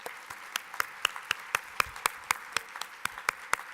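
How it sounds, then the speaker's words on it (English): Small audience at a leadership summit gives a round of applause, sparse and fairly quiet, with individual hand claps ringing out in a steady, evenly spaced rhythm. "have them stand up and give them a round of applause"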